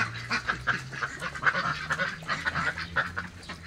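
Pekin duck breeders at swimming time quacking and honking in a busy flock, repeated nasal calls overlapping at close to moderate distance over a low background hum.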